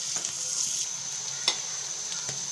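Onions frying in oil in a pan, a close continuous sizzle with a bright hiss and a few sharp spatters or stirring knocks, heard alone without speech.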